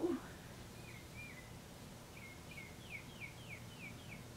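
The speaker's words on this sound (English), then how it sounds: "Y'all hear the birds chirping and shit outside?" Small birds chirp outdoors in a quiet setting, a series of short, faint, evenly spaced high calls repeating at a distance with no talking.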